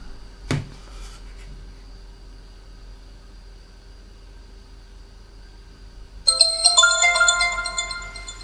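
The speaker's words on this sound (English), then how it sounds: "let's get this phone powered up and see what it looks like from the inside" An HTC Sensation XL Beats Audio phone powers up: a soft click early on and a quiet stretch, then a bright, melodic startup jingle plays near the end.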